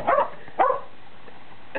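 A dog barks twice in quick succession, loud and close, followed by a short faint yip at the end, with no other sound between.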